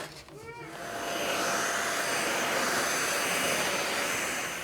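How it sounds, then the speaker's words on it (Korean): A newly bought household vacuum cleaner switched on inside a home in Mongolia, rising within a second into a loud, steady, close whirring roar that holds without a break. "바로 진공 청소기다."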